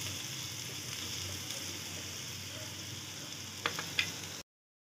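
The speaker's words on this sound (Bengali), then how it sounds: "ভালো করে মশলাটা অনেকক্ষণ ধরে একদম সিমে দিয়ে কষাতে হবে" Spices with turmeric sauté in a pan, making a steady close-up sizzle with a couple of faint scrapes near the end before it cuts to silence.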